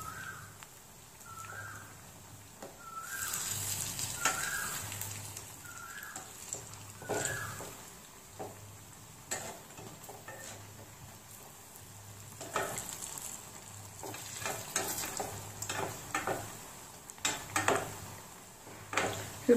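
Dahi bora frying in a pan over a medium flame, with soft oil sizzle and intermittent scraping and turning knocks from a stirring utensil, fairly quiet and close.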